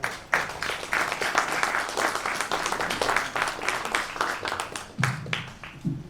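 Audience at a college jazz band spring concert applauding, a steady wash of clapping that holds level and then thins out near the end.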